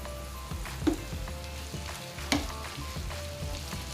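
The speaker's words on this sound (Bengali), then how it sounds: "এখন এর মধ্যে দিয়ে দেব আমার কেটে রাখা একটা ক্যাপসিকাম আর টমেটো কুচি" Chopped capsicum and tomato sizzle softly in a pan for a shakshuka, with a couple of sharper clinks from stirring standing out over the quiet, even frying.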